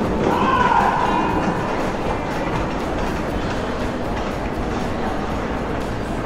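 An Amtrak train at Washington Union Station fills the space with a loud, steady rumbling roar that holds evenly throughout, with faint station murmur beneath it.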